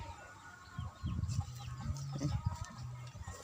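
Large chickens on a rural farm give a run of short, nearby clucks in quick uneven bursts over faint background noise.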